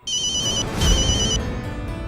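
A mobile phone ringtone rings loudly and close by, a repeating electronic tone pattern that pauses briefly and resumes over a dense, dramatic background sound bed.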